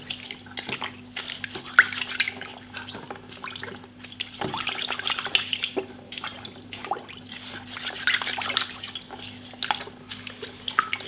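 Aquarium filter sponges being squeezed out and rinsed in water, irregular splashes, drips and sloshing trickles near at hand over a faint steady hum, with no talking.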